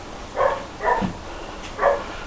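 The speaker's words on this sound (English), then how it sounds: "dogs are barking, it's wonderful" Dogs bark three times outdoors near a home gym, short sharp barks spaced about half a second apart, moderately close.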